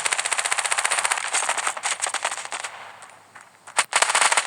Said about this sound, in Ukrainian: І тут ззаду почав стріляти.